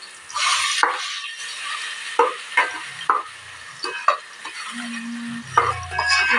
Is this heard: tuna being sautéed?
yes